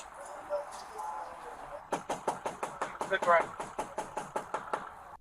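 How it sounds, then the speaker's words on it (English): Knocking on a house door by police, a steady series of about fifteen sharp, fairly loud raps, with a voice heard briefly in the middle and a faint background murmur before the knocking starts. "I'm just knocking on your door"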